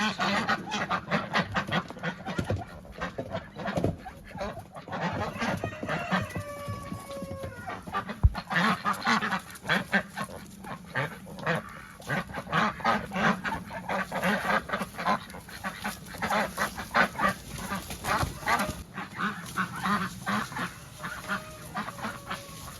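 Loud honking and quacking from several large ducks on a smallholding, nearly continuous with harsh repeated calls, close by over a steady outdoor background.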